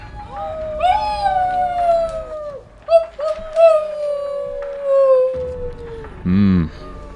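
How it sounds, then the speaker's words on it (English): Several long, wavering wolf howls drift in the night near a castle, sliding slowly downward in overlapping tones, with a brief higher yelp near the end. "The wolves. Listen."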